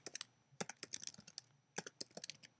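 Fingers type search words on a computer keyboard in two quick bursts of crisp, close key clicks with a short pause between, quiet and alone.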